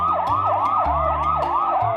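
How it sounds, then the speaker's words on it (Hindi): Police boat siren sounding as a loud, steady wailing sweep that rises and falls repeatedly, heard alone and close for about two seconds. "अचानक तभी पुलिस की बोट का सायरन सुनाई देता है"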